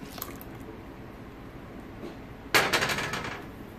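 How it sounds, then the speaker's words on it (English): Hot cocoa is poured into custard in a home kitchen, giving a short liquid splash and splatter after a stretch of quiet background. "pour that 2 cups of hot cocoa into the 2 cups of custard"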